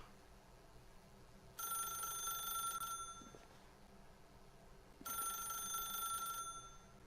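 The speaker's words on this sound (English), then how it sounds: "I don't want to answer the phone because that will give him what he wants. Maybe if I let it ring or disconnect the phone." An old-style telephone rings in the video game The Stanley Parable, two long bursts of bright electronic ringing separated by a pause, loud and close, with no one talking.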